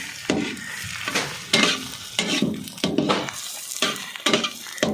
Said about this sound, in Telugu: ఈరోజు లివర్లు ఫ్రై చేస్తున్నాం ఫ్రెండ్స్